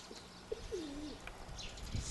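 A grey pigeon settles onto a landing spot, and a brief soft coo sounds faintly with a light rustle at the end, against a quiet outdoor background.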